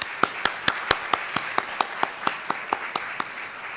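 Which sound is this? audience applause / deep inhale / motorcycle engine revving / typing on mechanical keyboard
audience applause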